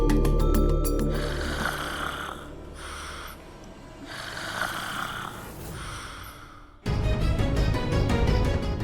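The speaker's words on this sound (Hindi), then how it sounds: "खर्राटे बंद कीजिए" Loud, rhythmic snoring rises and falls in slow drawn breaths across a scene from a Hindi television drama, with background music underneath that swells at the end.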